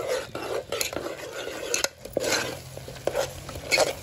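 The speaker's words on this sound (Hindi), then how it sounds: "हल्का सा इसमें पानी डालकर भूनेंगे" Close-up stirring of spices with a little water in a pan for black chickpea curry: a spatula scrapes and clinks against metal over a soft, steady sizzle of frying.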